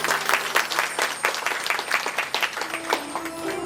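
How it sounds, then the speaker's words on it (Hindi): Audience at a Shrimad Bhagavat Katha gathering in Vrindavan applauding the saints, a lively burst of hand clapping with uneven pulses that carries through the whole stretch and softens near the end as a voice begins. "एक बार जोर से समस्त संतों के लिए एक बार ताली बजा दीजिएगा।"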